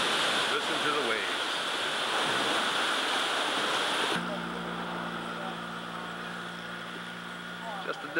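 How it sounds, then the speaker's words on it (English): Waves wash into a sea cave cove in Jamaica, a broad steady rushing surge that drops to a quieter, hollow hum partway through. "Listen to the waves."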